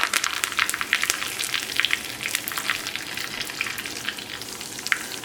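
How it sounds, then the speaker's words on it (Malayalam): Curry leaves sizzle and crackle in hot coconut oil after mustard seeds have popped, a dense, steady spatter with sharp pops throughout, close and loud, with no voices. "ഇതിലേക്ക് കറിവേപ്പില ചേർക്കാം."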